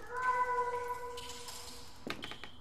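A cat meows in the horror adventure game The Last Door, a sustained wavering cry that sits steady in the foreground before a sharp burst of tapping and knocking cuts in near the end.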